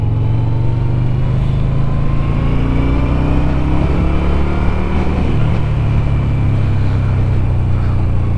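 A Yamaha Bolt motorcycle accelerates steadily in second gear, its engine a continuous loud rumble with a rising drone and constant wind noise, building speed gradually rather than with a sudden surge.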